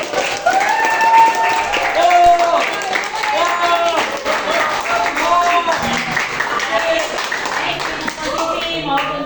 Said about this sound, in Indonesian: Aplaus ya untuk Ibu.